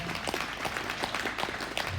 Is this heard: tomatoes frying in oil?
no